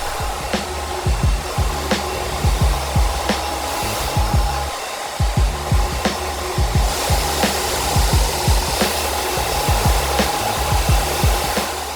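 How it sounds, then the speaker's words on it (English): A hair dryer on its cold setting blows steadily and loudly throughout, with a constant airy roar and soft rhythmic bumps underneath, no voices. "you could press the cold blast on your hairdryer"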